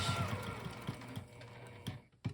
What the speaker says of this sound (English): I'm just sewing a basting stitch around the outside edge